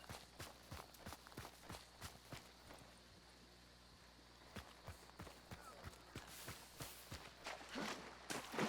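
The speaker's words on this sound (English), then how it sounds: "And we hear footsteps." Footsteps in the game Hunt: Showdown, a series of quiet, evenly spaced thuds heard at a distance, trailing off in the middle and then picking up again toward the end, with a low steady ambience underneath.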